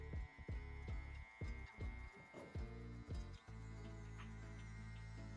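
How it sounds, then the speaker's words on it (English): Electric hair clippers hum steadily through a mid-drop fade haircut, cutting from the temple around the ear toward the nape, with a series of short thumping bursts early on before settling into a continuous close, even drone. "the next step in the mid-drop fade is our open lever with our clipper"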